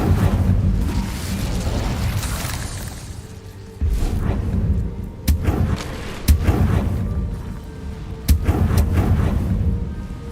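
Hogwarts Legacy's Incendio fire spell goes off in loud whooshing, booming fire bursts, several sharp blasts cracking out over a rumbling roar of flame, with no talk.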